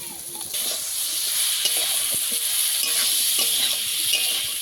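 Food frying in a pan, a steady loud sizzle that swells after a brief quieter start, with scattered stirring clicks and scrapes, heard up close with no talking.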